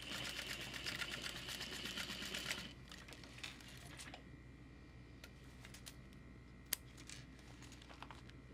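A sewing machine top-stitches a clear waist pack with a glitter shaker panel, running in a steady, rapid whir for a few seconds, then falling quiet to faint clicks and fabric rustling.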